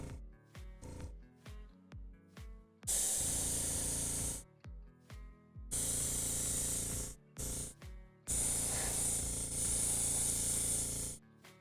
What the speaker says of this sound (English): This is what airbrushing is supposed to usually look like.